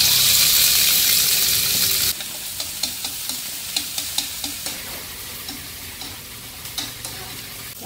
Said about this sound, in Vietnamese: Dầu sôi mình cho hành, củ hành vô đi.